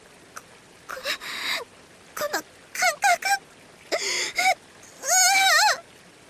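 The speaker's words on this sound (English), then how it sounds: "Tomatake-san gasps for air and starts trembling" A character's voiced gasps and trembling breaths in the Senren Banka visual novel, a series of short, breathy vocal bursts with quavering pitch, the last one longer and shakier, heard alone without other talk.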